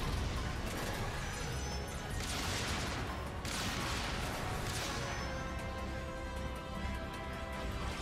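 Star Fox Zero combat erupts with a dense barrage of explosions and gunfire, bursts crashing one after another in broad noisy sweeps, with several louder blasts standing out over a sustained roar.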